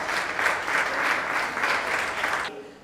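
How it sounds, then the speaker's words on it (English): An audience at a book launch breaks into steady, loud clapping that rolls in even waves for a couple of seconds, then cuts off abruptly, leaving a quiet room. "Please let's put our hands together for the mommies of the day."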